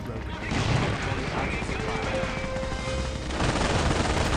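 Machine gun fire in Company of Heroes mobile, the game's MG commandos shooting: a sustained, dense rattle of gunfire and battle noise running steadily throughout, with a brief tonal whine in the middle.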